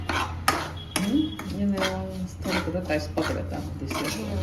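Broken-wheat lapsi roasts in melted ghee in a pan while a metal spoon stirs it, making light scraping and occasional clinks against the pan beside a low steady hum, with brief voices heard.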